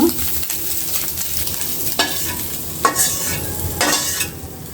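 Oil sizzling steadily in a pan where fish has just been fried, with cumin seeds and green chillies going in, broken by a few sharp clinks and stirring scrapes; no one speaks.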